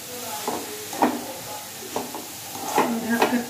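Grated carrots for gajar ka halwa roast in ghee in a pan, with a steady close sizzle broken by repeated scraping stirs of a spatula.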